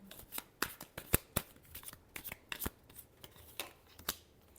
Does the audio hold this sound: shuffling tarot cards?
yes